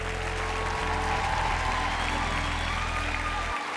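A comedy show audience claps loudly and continuously in a dense, steady wave of applause, with a low hum underneath and a faint voice in the mix.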